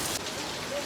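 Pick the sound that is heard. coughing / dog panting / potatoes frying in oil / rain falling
rain falling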